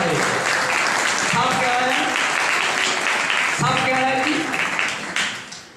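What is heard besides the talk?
church congregation clapping loudly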